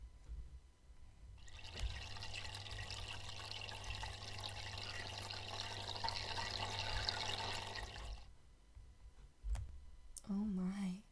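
Bath water is stirred and splashes softly in a steady wash for several seconds. It is faint and fairly close, followed by a couple of clicks and a short voice at the end.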